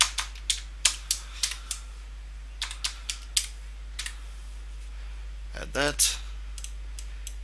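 Quick bursts of keystrokes clatter on a computer keyboard close up, a run of sharp clicks followed by a sparser cluster, with a brief spoken phrase and a mouse click near the end.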